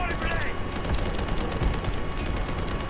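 Rapid gunfire from Black Mesa: a continuous, dense rattle of shots that runs the whole stretch, loud and steady with no pauses.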